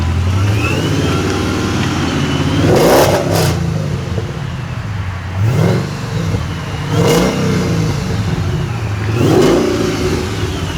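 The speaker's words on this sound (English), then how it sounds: "Can we hear how the car sounds?" A 2010 Dodge Challenger SRT8 with a Whipple supercharger revs up close, four sharp throttle blips rising to a high whine and dropping back to a loud, rough idle between them.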